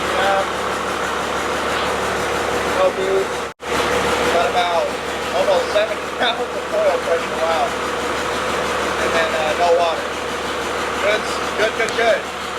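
A 650hp Cummins diesel swapped into a 1957 big rig idles at 700 RPM with a steady, loud rumble and faint knocking, broken by a brief cutout, while people talk over it.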